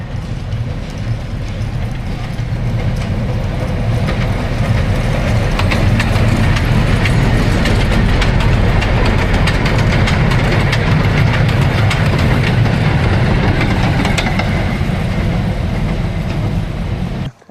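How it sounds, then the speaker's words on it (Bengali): A toy train runs around a lake in Kaldighi Park, Gangarampur, its steady rumble and clatter filling the whole stretch, loud and continuous as it passes close by. "ওই যে দেখুন সামনেই চলে এসছে টয় ট্রেন।"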